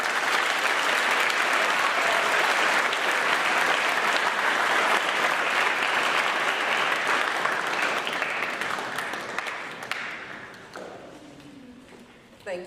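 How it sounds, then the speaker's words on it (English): Sustained applause from a school Veterans Day assembly audience, a loud dense roar of clapping that holds steady for several seconds, then thins and fades out near the end. "Let's give a round of applause for Sarah"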